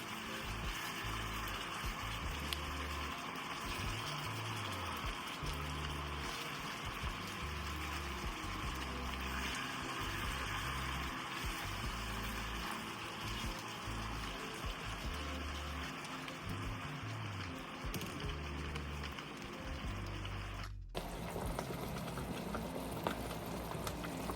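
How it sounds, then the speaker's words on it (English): Sweet chili wing sauce simmers on low heat in a pan, giving a steady, dense bubbling and hissing that runs unbroken for the whole stretch, loud and close with no voices. "Definitely cut your heat down. Definitely don't leave it on high. Cut it down to like low simmer."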